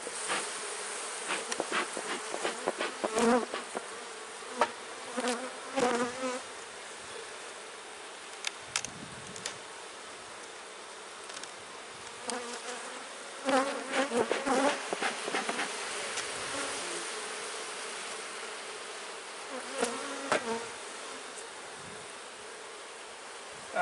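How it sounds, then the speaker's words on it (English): Angry honey bees swarm and buzz around an opened hive during an inspection, a dense steady drone with individual bees zipping close past the ear in sharp, loud passes. "even though these bees are not at all happy"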